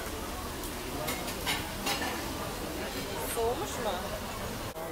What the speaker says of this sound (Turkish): Karıştıralım ki tadı Defne'ye gelsin.